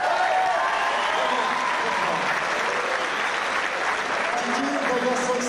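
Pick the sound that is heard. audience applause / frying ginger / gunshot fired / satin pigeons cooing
audience applause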